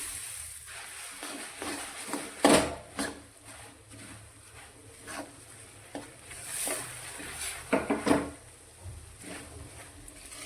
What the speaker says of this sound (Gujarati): અને મમરા જે લીધા છે તેને એડ કરી અને મિક્સ કરીશું